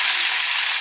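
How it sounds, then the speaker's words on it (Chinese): Pork belly slices hit a smoking-hot oiled wok and render their fat, giving a close, steady, dense sizzling hiss that holds at an even loudness throughout, with no voices. "给它煸一下，煸出来油脂"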